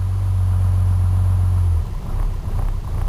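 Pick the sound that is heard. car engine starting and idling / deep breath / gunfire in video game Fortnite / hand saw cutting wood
car engine starting and idling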